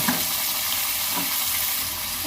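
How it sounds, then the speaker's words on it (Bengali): Ingredients for chilli chicken frying lightly in a pan give a dense, steady sizzle that stays even and close throughout. "হালকা করে ভেজে নেব"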